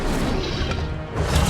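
An Incendio fire spell cast in Hogwarts Legacy bursts out as a loud, dense crash of flame and impact. It sustains for about a second and a half and swells again at the end.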